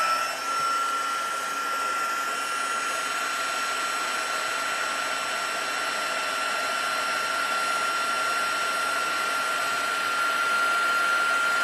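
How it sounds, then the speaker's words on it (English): A crafting heat tool blows hot air in a loud, steady whirring hiss with a high whine, running continuously and close for the whole stretch with no talk. "Grab the heat tool, and I'm just gonna hold this in place."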